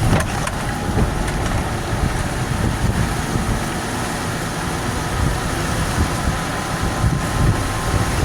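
A golf cart with a swapped motor drives up a slight hill, making a steady, loud whirring rumble mixed with heavy wind buffeting that persists without a break.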